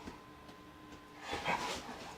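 Two pet dogs yelling at each other indoors, short faint yips and whimpering barks that rise into a louder burst near the end.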